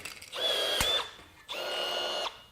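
A Milwaukee 2660 M18 FUEL cordless rivet gun sets aluminum rivets, two short whirring pulls close together, near and fairly quiet, with no one talking.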